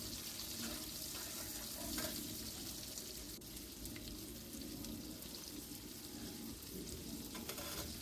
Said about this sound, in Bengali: দিয়ে আবারও ভালো করে তেলের সাথে মিশিয়ে নিচ্ছি যতক্ষণ না টমেটোটা নরম হয়।